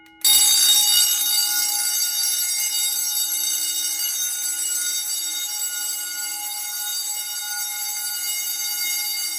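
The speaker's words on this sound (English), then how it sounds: "And this is your alarm." An Edward 6500 two-stage fire alarm control panel from the 1970s sounds its general alarm: a loud, steady electronic buzzing tone that begins abruptly and holds continuously without pause.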